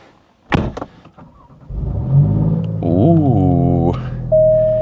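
Alfa Romeo Giulia Quadrifoglio pulling away, its engine rising from a low rumble into a swelling rev, with door and cabin thumps at the start and a short electronic chime near the end.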